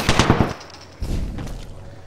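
Gunfire in the video game Apex Legends: a rapid burst of close, loud shots opens the moment, then fades into a lower rumble of game noise.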